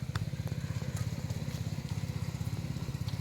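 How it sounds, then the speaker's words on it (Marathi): A tractor ploughing a farm field gives a rhythmic, chugging engine thump, a steady mid-distance diesel pulse with light clatter over it and no voices. "तिकडे ट्रॅक्टरने पण चालू झालं नांगरायला"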